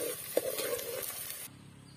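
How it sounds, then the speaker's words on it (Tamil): Onions fry until golden in a pan for a mushroom gravy, giving a soft, steady sizzle with a brief clink of stirring, close and faint, cutting out near the end. "வெங்காயம் வந்து நல்லா பொன்னிறமா ஆகுற அளவுக்கு நல்லா வதக்கிக்கலாம்"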